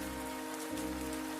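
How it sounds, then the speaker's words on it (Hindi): Rain falls as the first cold-season shower in a rural setting, heard as a faint, steady patter with a low constant hum behind it, with no voices. "यह ठंड की पहली बारिश है"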